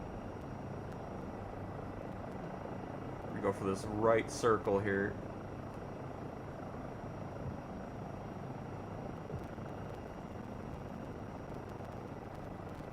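A helicopter in Microsoft Flight Simulator 2024 gives a steady, continuous rotor and engine drone throughout, while a person talks briefly over it near the start.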